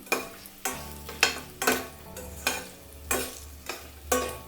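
Pulihora tempering cooking on a low flame in a pan, a soft background sizzle punctuated by about eight rhythmic scraping strokes of a spatula, close and moderately quiet, no talking.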